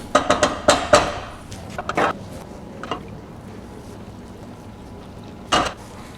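Butter browning in a pan for chocolate chip cookies, stirred and scraped along the bottom: a burst of sharp utensil scrapes and taps near the start, a few isolated clinks later, over a faint steady sizzle.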